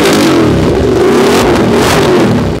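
An Aprilia RS 457 motorcycle fitted with an Austin Racing exhaust revs hard and loud up close, one sustained rising-and-holding engine roar over a couple of seconds with no voices.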